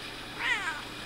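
A single short, faint cat meow over a steady background hiss.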